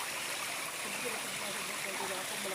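Water flows steadily at a village water source serving a local district. It makes an even, continuous rushing and trickling sound at moderate distance, with nothing else standing out.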